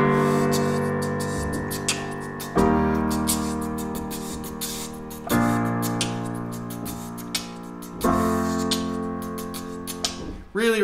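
Piano plays a simple four-chord accompaniment for the verses and chorus of a song, with sustained chords changing roughly every 2.7 seconds in a steady pattern, played alone and fairly soft.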